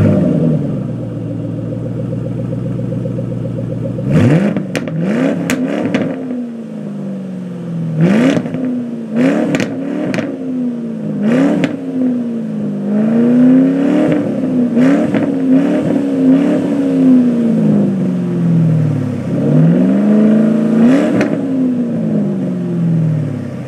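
A 2010 Ford Mustang GT's 4.6-liter V8 starting up and then revved repeatedly through its exhaust, loud close surges that rise and fall in roughly eight blips over a steady idle rumble.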